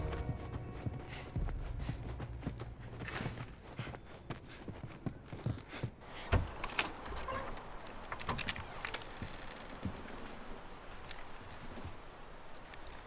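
Rhythmic clip-clop of horse hooves plods along steadily in the video game The Last of Us Remastered, mixed with faint clatter and rumble of other game sounds.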